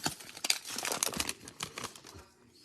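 Foil wrapper of a hockey trading card pack crinkles and tears open close by, a busy run of sharp rustles and crackles easing off toward the end, with no talk.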